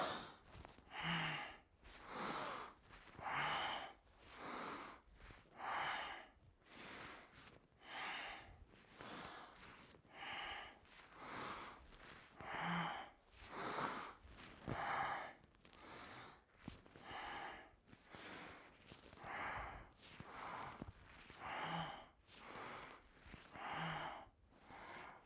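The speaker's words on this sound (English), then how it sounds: "I'm breathing in and out through the nose" Steady rhythmic nasal breathing during a yoga class, with repeated audible inhales and exhales through the nose in an even cycle, fairly close and alone without talk.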